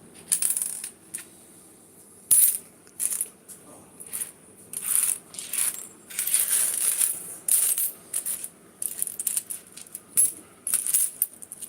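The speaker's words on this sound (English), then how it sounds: "So I'm just throwing the silver, well, the nickel and the brass or copper together, throwing them to the side." Nickel, brass and copper coins tossed onto a pile in repeated handfuls, bright metallic clinks and jangling bursts coming in irregular clusters, close and fairly loud.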